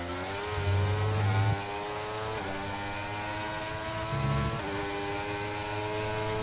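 Mercedes-engined Formula 1 cars racing at the British GP in F1 23, a high, steady engine howl with repeated pitch climbs through the gears, loud and continuous.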